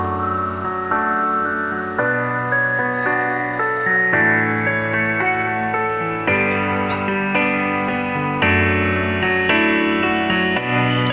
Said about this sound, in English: This piano part here has got a really cool filter on it.